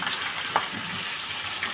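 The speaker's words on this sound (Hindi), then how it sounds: "ये चिकन इसमें डाल देंगे हम।" Chicken added to a frying pan of onions and ginger paste for chicken jalfrezi, producing a steady hot frying sizzle with a soft stir noise, close and continuous.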